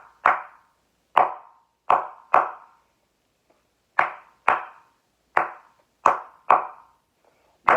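Crisp hand claps beat out a syncopated rhythm, about a dozen bright, close strikes with uneven gaps, heard alone with no talking.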